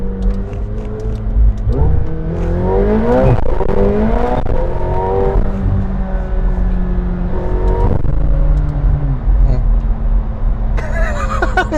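A McLaren 720S engine revs hard and climbs through its gears, loud and close, with rising whines and shifts, and voices talk over it.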